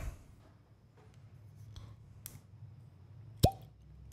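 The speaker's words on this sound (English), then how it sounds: "let's hear a pop" A synthetic plastic cork is pulled from a bottle of Legent bourbon, giving one clear, close pop near the end after a quiet stretch with faint handling sounds.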